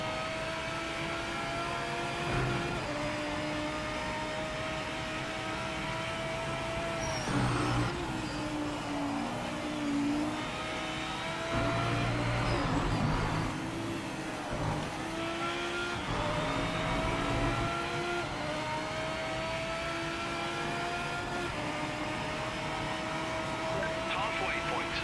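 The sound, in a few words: Porsche race car engine in Project Motor Racing video game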